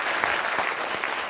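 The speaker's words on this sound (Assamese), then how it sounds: "হাত চাপৰি এটা বজাই দিয়ক" An audience at a speaking event applauds, a steady, moderately loud crackle of many hands clapping at once, continuous and fairly close throughout with no speech on top.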